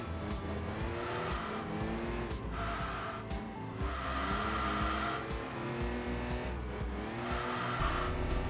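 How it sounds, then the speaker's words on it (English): Upgraded Peugeot V6 race car with exhaust upgrades in the Enthusia Professional Racing video game, a steady loud engine drone with recurring tire squeals as it corners, no talking. "It sounds like for a V6, it doesn't sound too bad. With the exhaust upgrades and everything."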